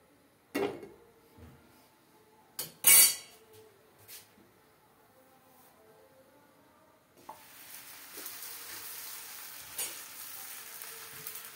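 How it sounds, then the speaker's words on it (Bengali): A flaky petai paratha is laid in a hot pan on a small stovetop burner: a few sharp clanks and clinks of cookware come first, then a steady, close sizzle of frying fills the second half. "একটা ভাজতে দিয়ে দিলাম"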